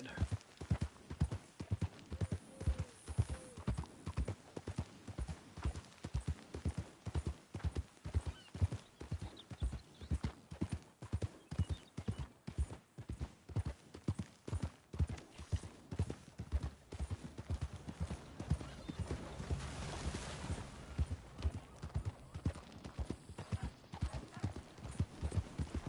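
Horses pulling a stagecoach in the Old West game Red Dead Redemption 2, near Blackwater: steady, close clip-clop of hooves in a brisk rhythm that runs the whole way through, with a brief whinny and rolling wheel rumble underneath.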